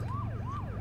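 A wailing siren sweeps up and down in pitch twice, steady and fairly faint, over a low engine rumble.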